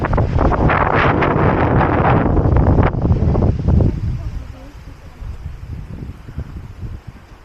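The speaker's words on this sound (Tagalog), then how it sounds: "lakas ng hangin" Strong wind buffets the microphone at an open-air museum in Hakone, Japan, with heavy low rumble for the first few seconds, then eases into a steadier gusty roar; voices speak briefly over it.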